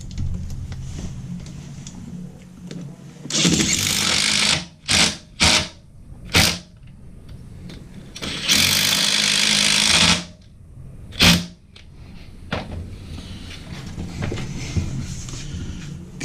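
Power driver spinning the last two screws into a new toilet flange during a toilet install, in a few loud bursts of varying length separated by pauses, close to the mic with no talking.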